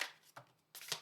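Tarot cards are drawn from a deck one at a time, giving three soft, brief card slides and snaps close by in a quiet room.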